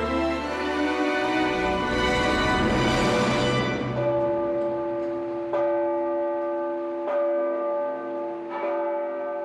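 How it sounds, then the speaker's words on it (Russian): A church bell rings loud and alone, with a long resonant hum and repeated strikes that leave rich ringing overtones decaying between blows. "Когда звонит колокол"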